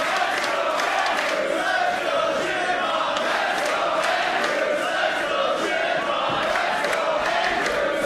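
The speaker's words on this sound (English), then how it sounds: "Crowd here split between the two." A wrestling crowd at a CHIKARA match between Mark Andrews and Shynron, filling the hall with a continuous loud roar of cheering and chanting that stays steady throughout, with no talk on top.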